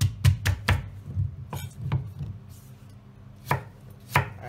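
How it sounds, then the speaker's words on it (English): A knife cuts lengthways through a sweet potato on a cutting board, giving sharp, close chopping knocks, a quick cluster of three at the start and then spaced single strokes, with no voices. "And with the sweet potato, just slice it lengthways"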